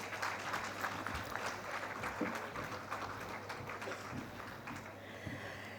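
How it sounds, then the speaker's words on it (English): A conference audience at a defence conclave session claps in a continuous patter that sounds faint and distant, with no talking over it. "Can I have a round of applause for this session,"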